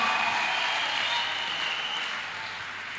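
A church congregation gives a sustained clap offering, a dense wash of many hands clapping that stays even and then slowly tapers off toward the end.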